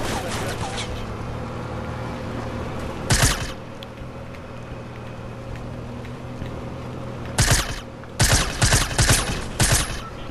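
A grenade explosion and gunfire in the Fortnite video game, heard as sharp bursts of shots early, midway and in a rapid cluster near the end, over a steady background hum.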